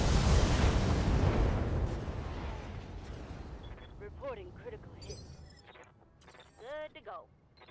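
A Battletech mech fires a salvo of missiles with a loud roaring burst that fades out over several seconds, followed by softer chirping electronic game sounds.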